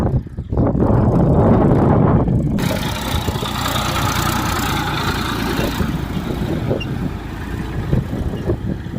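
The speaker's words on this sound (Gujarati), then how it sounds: "અને ટ્રેક્ટર પણ પાછળ ચાલે છે એ પણ દેખાડું તમને." Tractor engine running steadily while pulling a field leveller to break soil clods, a loud continuous mid-pitched drone that swells with a heavy rumble at the start, then settles into a constant nearby rumble without talk.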